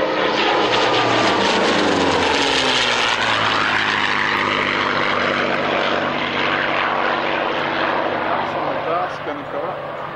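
A P-51 Mustang propeller fighter flies past at the Duxford autumn airshow, its loud piston engine drone rising and sweeping in pitch as it passes overhead, with a voice talking over it.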